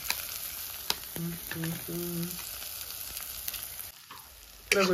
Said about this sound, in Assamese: এইফালে আমি ভাজি আছো ডিমা ভাজি আছো